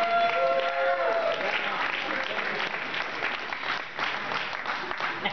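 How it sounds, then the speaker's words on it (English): A crowd at an award dinner applauds an honoree, a loud, dense, continuous wash of many hands clapping at once, with scattered voices and cheers underneath. "let's give a round of applause for our Peer Caretaker of the Year, Russell Kyle."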